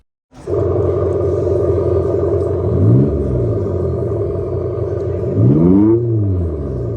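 An Abarth car engine at an auto show in Switzerland idles loudly and steadily, then revs up and drops back twice in rising-and-falling sweeps, close and alone.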